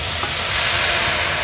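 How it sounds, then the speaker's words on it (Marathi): Boiling water poured into a pan of ghee-roasted rice for sweet coconut rice hits with a loud, dense hiss and sizzle that holds steady throughout. "तुपावर हे तांदूळ छान परतून झालेत आपले, आता ह्यात आपण उकळतं पाणी ऍड करूया"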